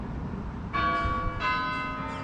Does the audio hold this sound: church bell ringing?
yes